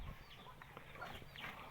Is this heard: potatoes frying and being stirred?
no